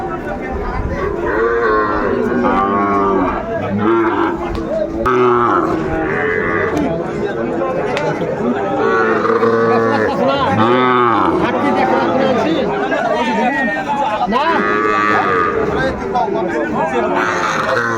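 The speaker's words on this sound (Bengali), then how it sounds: "শাহিওয়ালের ষাঁড় বাচ্চা আমরা দেখছিলাম, সুন্দর কোয়ালিটির।" Sahiwal bull calves at a cattle market low repeatedly in loud, overlapping moos, with a crowd chattering and voices talking throughout.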